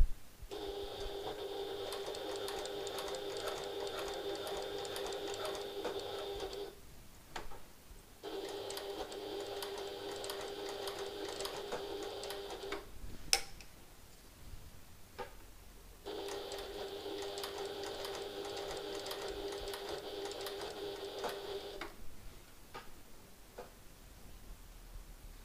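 A sewing machine stitches a handbag in three long, even runs of about six seconds each, a buzzing hum with quiet pauses and small clicks between them, fairly faint and close.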